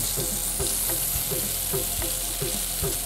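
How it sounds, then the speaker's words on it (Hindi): Garlic and halved tomatoes set cut side down in oil and browning in a pan, a loud, steady close sizzle with small crackles and pops throughout. "इनको उल्टा कटी हुई साइड नीचे रख के इसमें डाल दूँगा और थोड़ा सा ब्राउन होने दूँगा। भुनने देते हैं।"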